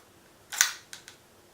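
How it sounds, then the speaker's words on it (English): An 1895-96 Kodak Bullseye box camera's wire shutter is worked, giving one sharp mechanical snap followed by two quicker, fainter clicks, close and isolated against a quiet background. "And it's just operate the shutter again"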